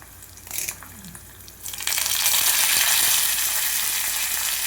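Asafoetida, cumin and mustard seeds hit hot oil for a Telugu tempering, a few light crackles first, then a loud, steady sizzle that swells and holds close by.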